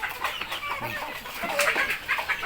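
Backyard chickens cluck and chatter close by during an evening feeding on a Thai farm, with several birds overlapping in quick, uneven bursts.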